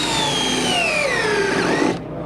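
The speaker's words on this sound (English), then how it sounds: "It is comprised of a setting tool that's going to put this screw below the surface about 1/4 of an inch every single time" A Cortex setting tool on a power drill drives a screw into a decking board with a loud, steady whine that slowly drops in pitch as the screw sinks, then stops abruptly.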